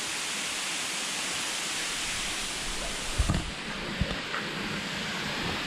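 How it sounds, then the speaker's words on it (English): Sai Rung Waterfall in Khao Lak pours in a steady broadband roar that fills the whole clip, fairly loud and close, with a few brief bumps and knocks near the middle. "there we have it, Sai Rung Waterfall."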